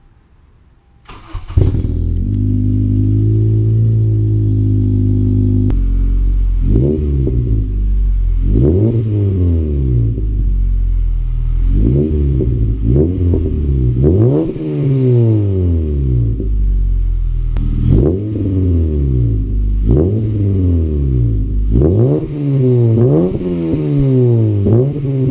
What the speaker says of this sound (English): let's get it down off these jack stands and get a cold start and see how it sounds